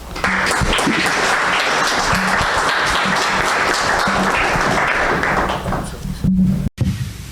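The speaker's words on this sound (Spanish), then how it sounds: "licenciado Francisco Ramírez Yáñez, a quien recibimos con un fuerte aplauso." Audience applause welcoming a priest to the lectern at an education lecture, a full, sustained roar of clapping from a large crowd that holds for about six seconds, then thins out with a few thumps near the microphone.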